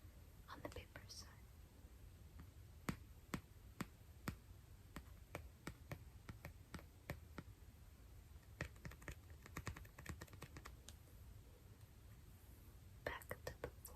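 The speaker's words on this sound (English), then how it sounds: "now we're going to listen to tapping on the paper side." Soft, close taps land on the paper backing of a sheet of foil in a quiet room, coming in a loose, uneven series of light, crisp clicks with brief pauses between clusters.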